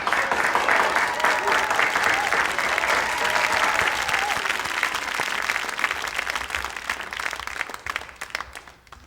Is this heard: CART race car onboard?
no